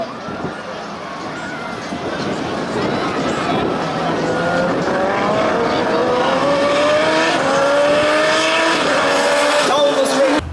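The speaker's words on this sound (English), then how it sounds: "Off the back straight they go, and Kristian Jeffrey lets that evolution loose and blows by Mark Vera." A race car, an Evolution, accelerates hard down the back straight of a circuit and overtakes another car. A loud, continuous engine roar climbs steadily in pitch as it pulls past, with tire noise and the hum of other cars mixed in.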